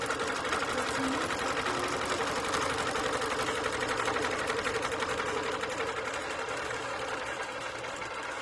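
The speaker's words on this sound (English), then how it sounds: "And it is starting to sew the design out now." A longarm quilting machine stitches out a quilting design, its needle running in a fast, steady mechanical rhythm that stays loud and even throughout.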